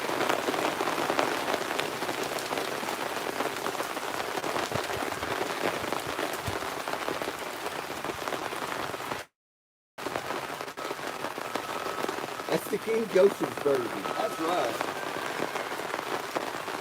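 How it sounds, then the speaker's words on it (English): Steady, dense rain patters hard on a surface throughout, with a brief gap of silence and people talking underneath, during outdoor gold sluicing. "Sounds like the rain's getting stronger in here."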